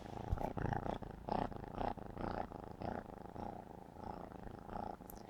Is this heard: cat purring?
yes